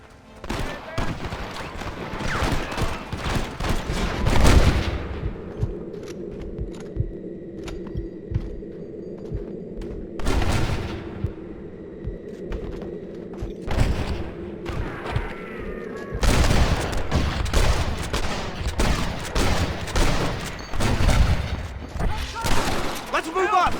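Gunfire erupts in Red Dead Redemption: dense volleys of rifle and pistol shots crack in rapid bursts, easing into a sustained hum with sparse shots before heavy firing resumes, while voices shout over the fighting.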